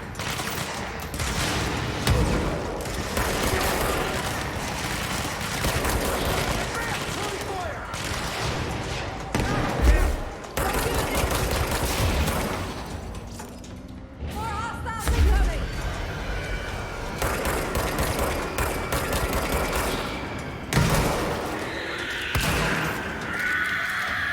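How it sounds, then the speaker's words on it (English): Sustained gunfire fills a firefight in the video game Control, with dense bursts and thuds running almost continuously at close range, and shouted voices heard within the din. "Suppressing fire! Shoot to kill!"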